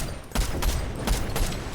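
Fortnite gunfire crackles in a loud burst of several shots, sharp repeated cracks spaced across under a steady background of game noise.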